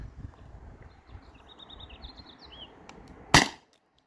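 A Beeman BP50 CO2 air pistol fires one sharp, loud crack through a chronograph outdoors, preceded by quiet ambience and faint bird chirps.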